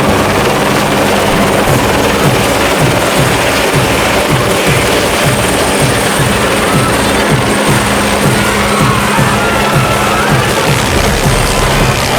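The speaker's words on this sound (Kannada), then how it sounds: "ಸಿದ್ದೇಶ್ವರ ಅಜ್ಜನವರ ಮಠದ ಮೇಲೆ ಹೆಲಿಕಾಪ್ಟರ್ ಮೂಲಕ ಹೂಮಳೆಗೈಯಲಾಯಿತು" A helicopter roars loudly and steadily overhead at a temple festival, showering flowers over a monastery, its rotor thumping in a fast regular chop under a dense wash of engine noise.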